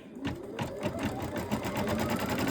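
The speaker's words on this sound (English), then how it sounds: "now it's going to do the stitch, like a satin stitch around the ears" An embroidery machine sews a satin stitch around the ears of a mouse design with a loud, close, rapid mechanical chatter that runs steadily throughout.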